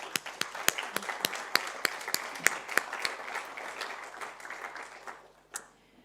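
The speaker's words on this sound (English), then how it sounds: "Congratulations and a big applause." Audience applause at a research initiatives launch event, a room of people clapping steadily for several seconds before it thins out to a few last claps.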